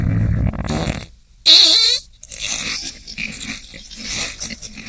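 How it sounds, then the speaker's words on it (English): Comedic fart sound effect, a low buzzy blurt up front, then a brief squeaky whistling wobble and scattered snorting, growly noises, moderately loud with short silent gaps. "Gilray gets the third Georgian king, George III, to fart his contempt towards the French"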